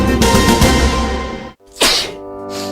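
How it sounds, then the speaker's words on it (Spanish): A single sharp sneeze in a public health announcement about coughing and sneezing, loud and close, set apart from the denser sound before it by a brief silence. "Al estornudar y toser"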